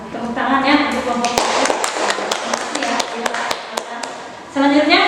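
A group audience claps for a team of presenters at a group guidance session, a few scattered sharp claps and taps ringing out over continuous talking nearby.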